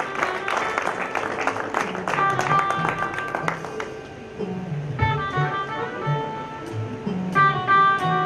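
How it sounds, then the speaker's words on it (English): Audience applause at a primary school graduation ceremony, a steady wash of clapping running the whole time beneath music with bright tonal notes and some voices. "Please give a big round of applause for Ananya Avdekar."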